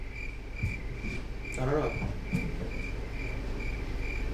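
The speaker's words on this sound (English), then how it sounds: "That's the crickets." Steady, evenly pulsed cricket chirping keeps a fine rhythm throughout at low level, while someone speaks briefly over it.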